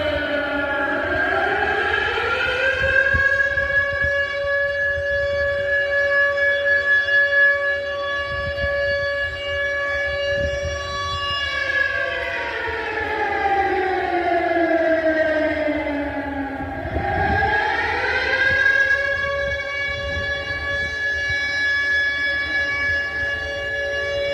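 An air raid siren wails in front of Odesa city hall, a loud steady tone that rises and falls in long slow cycles, sounding alone in the open city air.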